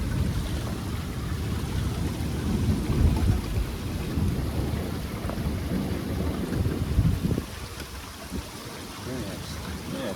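Thunderstorm with heavy rain and rolling thunder, a dense, continuous rumble and rain wash that eases slightly toward the end, no talk heard.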